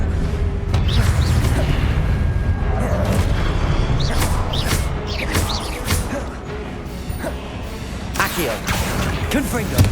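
Confringo explosive spells blast again and again in combat in Hogwarts Legacy, a rapid run of loud booms, crashes and whooshes filling the whole stretch, with voices calling out over the fighting.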